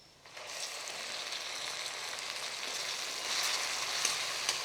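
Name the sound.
tomatoes sautéing in pan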